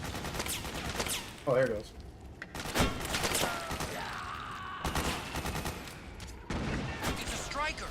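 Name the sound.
gunfire in the video game Metal Gear Solid 4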